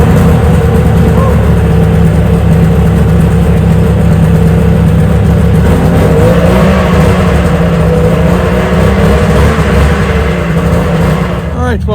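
A small carbureted engine on a snowmobile, fed a splash of extra gas in the carb on a snowy farm, runs loud and steady with a rough low idle that holds the whole time. It sounds close, with speech-like noise over it.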